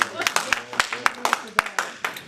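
Audience clapping at a commissioners' forum, a small crowd's scattered claps in a quick, uneven rhythm, close and moderately loud, with a voice speaking over them.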